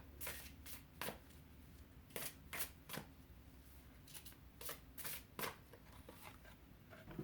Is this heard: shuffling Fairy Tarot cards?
yes